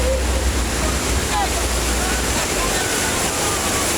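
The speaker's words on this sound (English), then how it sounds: "the sounds of the waves, the sounds of the water falling onto these grates" Water from a Mandalay Bay wave pool pours onto grates, a steady broadband rush and splash that stays constant and close, with a voice briefly heard over it.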